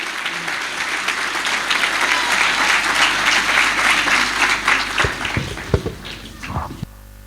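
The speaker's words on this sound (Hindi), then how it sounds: "FGA चर्च में भरपूर तालियों से खुदा के खादम को वेलकम कहेंगे" A church congregation applauds to welcome a pastor, a loud sustained roar of many clapping hands that thins out toward the end into a few scattered claps and a dropped-off hush.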